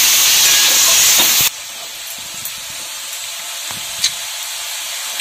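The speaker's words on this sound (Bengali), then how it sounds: "আলু গাজরটাকে লাল লাল করে একটু ভেজে নিই।" Potatoes and carrots fry in a pan for a loitka dried-fish dish. A loud, steady sizzle hisses for a moment, then drops to a softer, continuous crackle with a few sharp pops.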